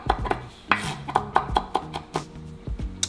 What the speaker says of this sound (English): Go ahead and chop everything up.